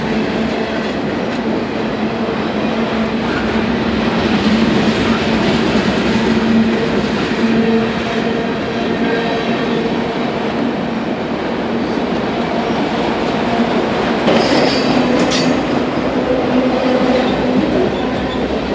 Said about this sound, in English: The now rapidly accelerating train is clear of the interlocking as they continue east on the CSX.